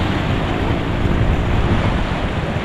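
High water of the Pampanga River rushes loudly and steadily in a dense, unbroken roar close to the microphone, with wind buffeting mixed in.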